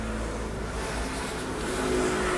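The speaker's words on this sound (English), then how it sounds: "Sorry about all the traffic noise." Steady road traffic rumbles continuously beside the Mediterranean, with car engines droning and revving at moderate distance and no pauses throughout.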